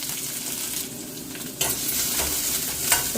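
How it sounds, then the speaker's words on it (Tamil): Onions frying in oil with curry leaves, a dense close sizzle and stirring that swells louder halfway through, with a few brief scraping accents. "நல்லா வெங்காயம் வதங்கி வரட்டும்"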